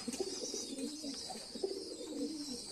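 Young silver line pigeon chicks with soft, continuous cooing and low murmuring calls, close by and steady, over a faint high hiss.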